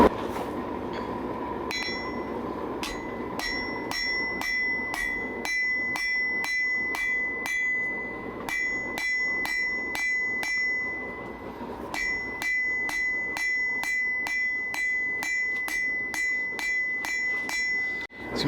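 Metal taper being hammered on an anvil, a long run of sharp ringing strikes at a steady, fairly quick rhythm, each with a bright metallic ring, with one brief pause partway through, close and loud with no talk.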